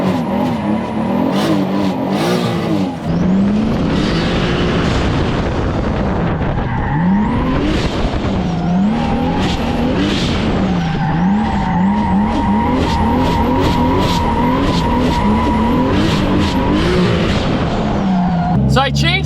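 A 600hp Nissan 240SX doing figure eights and donuts, its engine revving hard and tires squealing and skidding almost continuously, loud and close, with rising and falling engine pitch.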